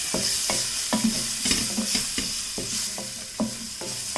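Crushed garlic cloves frying in hot oil, a close bubbling sizzle broken by regular spatula strikes and scrapes against the pan roughly every half second, no speech.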